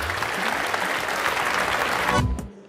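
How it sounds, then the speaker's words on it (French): A cooking-show audience at a Swiss food fair applauds chef Norbert with dense, steady clapping that holds for a couple of seconds and then cuts off quickly. "je vous demanderai d'applaudir Norbert"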